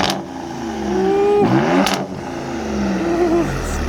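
A 2018 Ford Raptor with a Borla exhaust revs up hard, its deep engine note climbing and falling through a couple of throttle blips close by, with a brief voice underneath.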